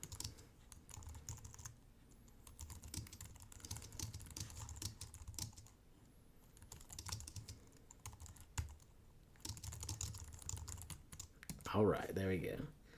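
Quiet, steady keystrokes tap on a computer keyboard in fast runs broken by short pauses, with faint background noise and a brief louder bump near the end.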